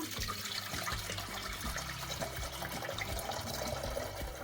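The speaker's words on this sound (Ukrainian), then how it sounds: "Помідори гарно наші прогрілися, і тепер ми їх будемо зливати." Hot water draining from a jar of heated tomatoes for canning, a steady gurgling, splashing pour that runs continuously at close range with no talk.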